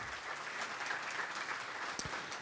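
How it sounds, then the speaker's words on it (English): A convention crowd at a Nerd HQ charity panel applauds themselves, a faint, distant wash of steady clapping with one sharper knock near the end. "Give yourselves a round of applause for that"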